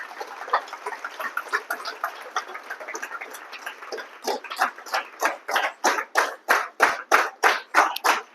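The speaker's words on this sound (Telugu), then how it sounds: "నా కోసం ఒకసారి గట్టి క్లాప్స్ కొట్టండి" An audience at a business team meeting claps in rhythm, softer and scattered at first, then loud, unified beats that grow stronger toward the end.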